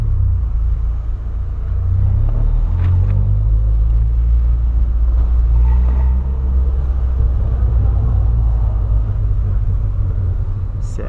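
A 2008 Volkswagen Polo sedan's engine rumbles loudly in a parking lot, rising as it is revved and then holding a steady low drone, close and continuous with no voices over it.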